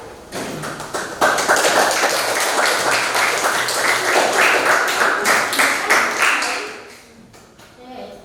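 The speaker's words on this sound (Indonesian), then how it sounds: "Silahkan kita beri aplaus untuk kelompok 1" Audience applause for the first group in a classroom, a dense burst of many hands clapping that holds steady for several seconds and then thins out, with a few scattered claps at the end.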